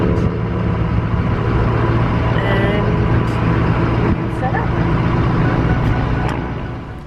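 A Ford F-250 pickup, broken down and at risk of overheating, pulls a trailer in, its engine a loud, steady rumble with road noise throughout that fades slightly at the end.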